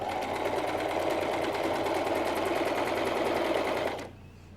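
A sewing machine runs steadily while stitching a salwar during a home tailoring lesson, giving a fast, even mechanical whir with rapid needle ticks for about four seconds before stopping abruptly, close and alone with no talk.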